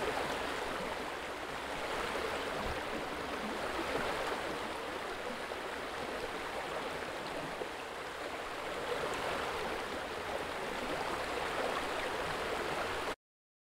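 Steady rushing of a flowing river, broadband water noise holding constant throughout with no voices.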